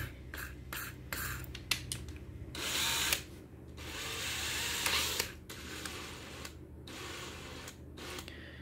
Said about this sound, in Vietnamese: nó kêu phần nhông đập cái là nó dừng